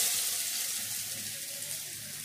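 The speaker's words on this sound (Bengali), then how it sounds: "তো এগুলো কিন্তু আমি এখন এই গরম তেলে দিয়ে নেব।" Ground salt, turmeric, chilli, cumin and coriander go into hot oil with a bright, steady sizzle that starts strong and eases slightly over a couple of seconds.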